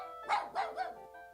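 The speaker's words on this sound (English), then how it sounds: "A little puppy barked at Chance." A little puppy in a waiting room full of animals and their owners lets out three quick, high yipping barks close by, with a brief pause between each.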